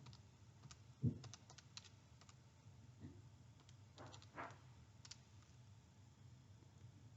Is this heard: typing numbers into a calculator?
yes